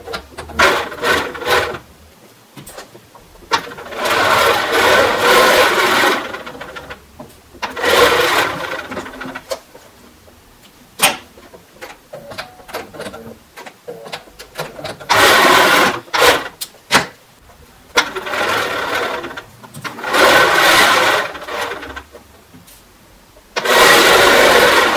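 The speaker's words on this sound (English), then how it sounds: "And we're going to sew 1/4 inch down either side." A sewing machine stitches patches onto an appliqué cushion, running in bursts of rapid mechanical whirring separated by short pauses and small clicks as the fabric is repositioned.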